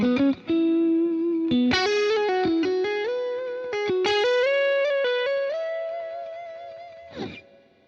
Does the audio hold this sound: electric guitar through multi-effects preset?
yes